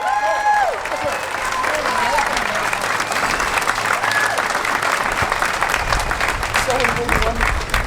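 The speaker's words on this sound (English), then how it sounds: "Let's give him another round of applause." A crowd at an outdoor freedom rally in Sheboygan County gives loud, sustained applause with cheers and whoops for eight seconds, a continuous dense roar of clapping with voices mixed in.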